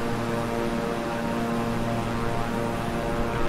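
Steady, continuous propeller drone of a twin-engine King Air 350i in Microsoft Flight Simulator, with strong tonal hum bands and constant loudness throughout, no voices.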